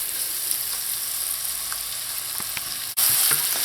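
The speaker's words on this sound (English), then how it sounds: "I'm going to allow this to saute in here until tender." Chopped vegetables seasoned with Cajun seasoning and celery salt sauté in a pan for lobster chowder, giving a steady, close sizzle throughout with a brief jolt near the end.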